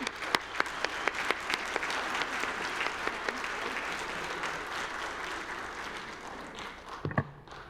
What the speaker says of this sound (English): Please help me welcome her to the platform with a round of applause